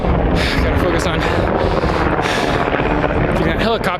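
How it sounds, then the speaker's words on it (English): A helicopter's loud, steady broadband roar runs without a break through the whole stretch, close and dominant, heard during a session of consecutive lunges. "getting that helicopter noise out of the way"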